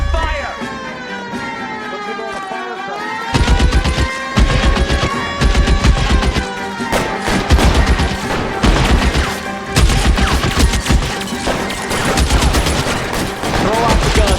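Gunfire in the video game L.A. Noire: bursts of rapid shots and loud cracks layered over tense orchestral game music, with a siren-like wail and shouting voices in the mix.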